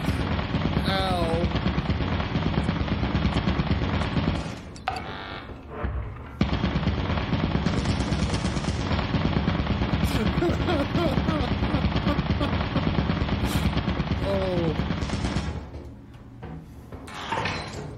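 Sustained automatic turret fire in a video game, a steady rapid stream of shots running nearly throughout, with brief gaps and some sliding metallic sounds, heard under faint game noise.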